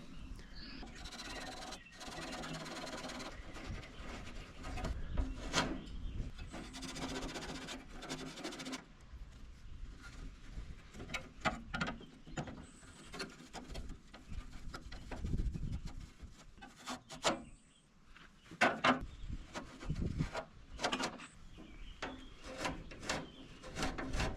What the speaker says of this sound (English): I might as well hit those with some Scotch-Brite while I'm here. Just clean those up.